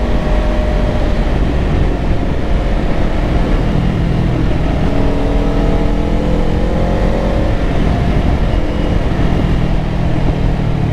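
Engine of a 2024 Kawasaki Ninja 500 motorcycle as the rider shifts gears, a loud, continuous drone with rising and falling pitch through the changes, heavy wind rumble underneath.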